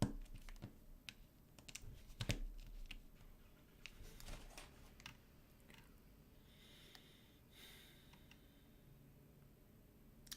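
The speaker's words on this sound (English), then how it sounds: "Is this a new type of mechanical keyboard?" Quiet, irregular clicking of keys being typed on a mechanical keyboard, close by, in uneven bursts with short pauses and a faint background hum.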